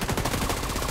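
Rapid automatic gunfire from the co-op shooter The Division 2, dense and steady for a full second, loud and close with no voices over it.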